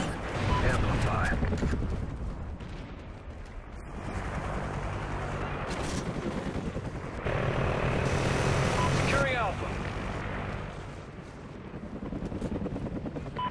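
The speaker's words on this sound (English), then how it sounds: "Friendly chopper inbound." In the video game Strikezone Domination, a helicopter's rotor drones continuously through the combat mix. The roar swells and fades with bursts of battle noise and game voices on top.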